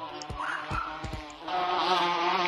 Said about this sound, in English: the bees are coming to attack you.